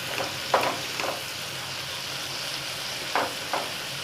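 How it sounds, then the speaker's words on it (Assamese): Masala frying in a pan for a paneer curry: a steady hiss of spices in oil, with a few soft scraping stirs at intervals, close and fairly quiet. "অকণমান সময় এইখিনি ভাজিম"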